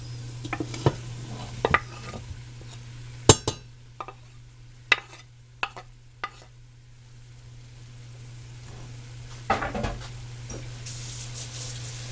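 Canned corned beef and cabbage being stirred in a pan, a steady soft sizzle under scattered sharp scrapes and clinks of the utensil against the metal, close by over a constant low hum.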